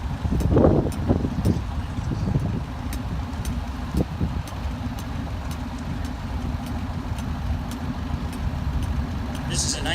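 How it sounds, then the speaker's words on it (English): A 1985 Bombardier Iltis military light utility vehicle engine rumbles steadily nearby as it rolls past in an army vehicle parade, with wind noise and some voices at the start, ending in a brief higher rattle. "1985 Bombardier Iltis, also owned by and driven by Fraser McLeod"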